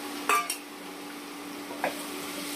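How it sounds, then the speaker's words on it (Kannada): Ridge gourd fries in oil in a pan, a quiet, even sizzle under a low hum, broken twice by brief clinks of a utensil against the pan; nobody speaks. "ಪಟ್ಲಕಾಯಿನೂ ಒಂದ್ ನಿಮಿಷ ಚೆನ್ನಾಗಿ ಫ್ರೈ ಮಾಡ್ಕೋಬೇಕು"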